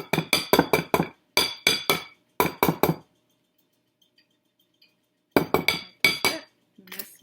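A spoon mixes and scrapes scone dough in a bowl in quick rhythmic bursts of knocking and scraping, grouped in short runs, then a quiet pause before the strokes resume.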